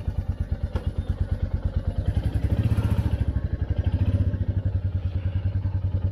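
Royal Enfield 350 motorcycle, a Thunderbird or Meteor 350 cruiser, starts and settles into a steady thumping single-cylinder idle, loud and close, with a brief rise in revs midway.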